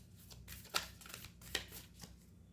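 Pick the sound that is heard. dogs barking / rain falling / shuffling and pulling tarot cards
shuffling and pulling tarot cards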